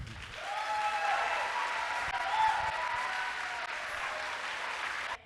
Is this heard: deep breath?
no